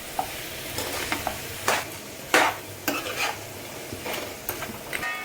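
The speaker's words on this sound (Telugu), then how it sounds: "ఇది వేసిన తర్వాత ఇదంతా ఒకసారి ఇలా కలుపుకుందామండి" A spoon scrapes and clinks through a pot of goat trotter bone soup as chili powder is stirred in, with irregular knocks against the pot over a soft, steady sizzle, close and fairly quiet.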